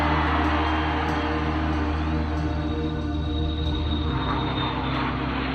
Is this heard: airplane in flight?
yes